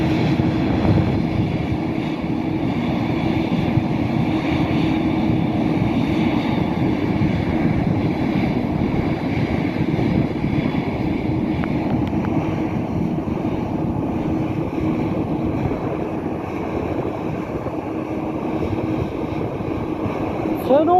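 Airliner at Luton Airport taxiing, its engines holding a loud, steady, droning hum with a constant whine above it, continuous and close for the whole stretch, without a clear rising spool.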